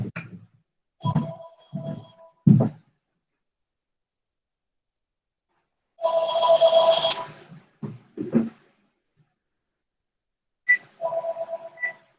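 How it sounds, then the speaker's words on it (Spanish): Cordless landline phone rings in short electronic bursts, several tones spaced apart in a quiet room, with one longer ring in the middle and no talking. "Sonaba el teléfono fijo, el inalámbrico, y nunca suena acá en mi escritorio"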